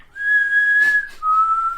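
A person whistles in imitation of the whistling in The Walking Dead: a steady, clear high note held for about a second, a brief breathy puff, then a slightly lower sustained note, close and alone.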